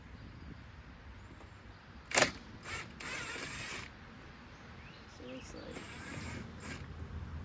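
Old screws being backed out of an abandoned ski boat with a hand tool, giving faint, intermittent clicking and creaking ratchet sounds and one sharp clack, under a man's speech.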